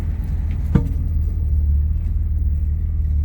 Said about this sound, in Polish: teraz V6 słychać